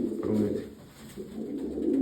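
Pigeons coo steadily in low, throaty warbles, close by and continuous, with rustling in the background.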